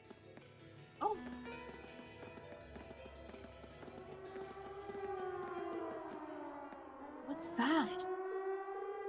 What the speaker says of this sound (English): It sounds like a siren. It seems to be coming from the fort.